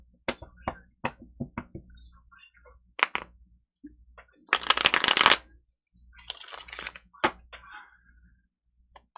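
Tarot cards being shuffled by hand, with a series of sharp riffles and taps, then a loud burst of fast shuffling in the middle followed by softer card handling, close and without talk.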